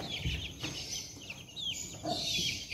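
A young chick is held in the hand for an eye-drop vaccination and gives a few short, faint clucking chirps against quiet background noise, with no talking.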